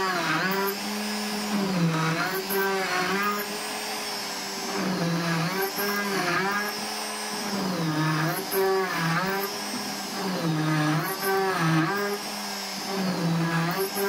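A power drill bores holes in an XZ plates fixture, running in repeated whining bursts whose pitch rises and dips as it loads and eases through the material, heard close up.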